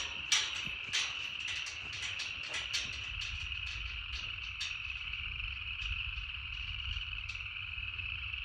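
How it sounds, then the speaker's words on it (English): A dense chorus of frogs croaks at night on an off-grid farm, steady and fairly loud, with shrill insect-like trilling throughout and a few sharper calls standing out early on. "well, you can hear the frogs."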